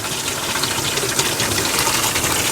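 Water gushes steadily from a newly installed kitchen faucet running cold only, a loud continuous rushing splash close by with no pauses and no talk.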